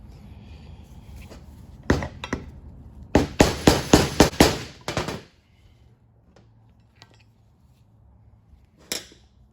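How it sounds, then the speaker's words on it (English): A hammer strikes a flathead screwdriver to drive guide pin bushings out of a front brake caliper mounting bracket on a 2014-2018 Chevrolet Silverado or GMC Sierra. A few sharp metallic hits are followed by a rapid burst of close, loud strikes, then one last knock. "we're gonna have to take a flathead screwdriver and kind of just hit the side of it just to depress it"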